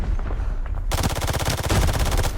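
Rapid automatic gunfire in the video game Arena Breakout, a dense sustained burst of shots that begins abruptly after a quieter stretch and stays loud to the end, with no talking.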